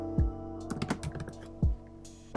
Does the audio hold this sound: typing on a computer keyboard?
yes